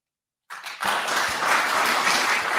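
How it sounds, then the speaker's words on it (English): After a brief silence, an audience at a city commission meeting bursts into applause that swells quickly and holds as a steady wash of clapping. "I ask that you refrain from your applause, please."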